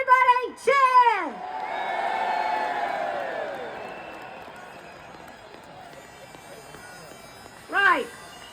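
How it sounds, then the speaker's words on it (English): Crowd at a farmers rally in November 2024 cheering and whooping after shouted talk, the cheer swelling loud and then fading over several seconds, with another burst of speech near the end. "could we all give him a big cheer to make sure he does make it onto the stage?"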